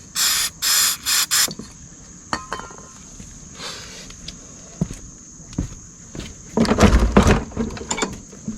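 A can of starting fluid is sprayed into a carburetor in three short, sharp hissing bursts up close, followed by scattered clanks and handling noises and a louder clatter near the end.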